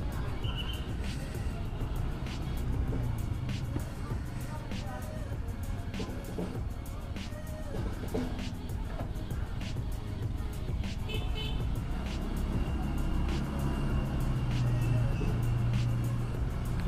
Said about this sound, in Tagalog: Ayan na po yung trapiko dito.